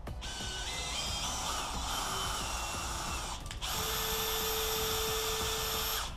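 A machine drives a tap at low speed in first gear to cut a screw thread into lubricated steel, giving a loud continuous whining drill tone that pauses briefly and then resumes at a higher, steadier pitch.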